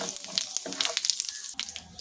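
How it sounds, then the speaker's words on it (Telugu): A tempering of mustard seeds, urad dal and cumin spits in oil and ghee for beetroot chutney, with sharp irregular pops and crackles over a light sizzle, up close. "పోపు అయితే ఎగిపోయిందండి"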